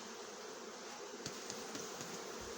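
A steady, dense buzzing of many honey bees shaken from a hive frame fills the air, close and continuous, with a few brief soft knocks partway through.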